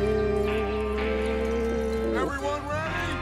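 Horses in the Red Dead Redemption 2 train robbery mission, with a horse snorting and whinnying briefly near the end over a steady drone of game music and ambience.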